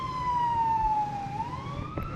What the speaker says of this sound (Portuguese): chegando a ambulância agora